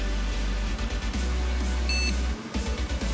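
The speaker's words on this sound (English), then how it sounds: "Beep!" A short electronic computer startup beep, a cluster of bright pure tones lasting a fraction of a second, sounds over a steady low hum and clatter of machinery.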